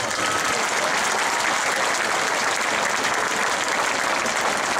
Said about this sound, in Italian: Vieni qua, prenditi il tuo applauso e poi te ne vai.